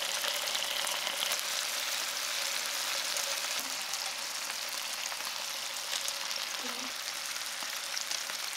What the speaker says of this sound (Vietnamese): Mình chiên sơ cá cho săn mặt, không chiên chín nha các bạn